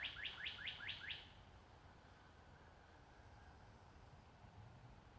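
A bird outdoors giving a quick run of six sharp, repeated chirps lasting about a second, fairly close and clear, followed by quiet ambient background.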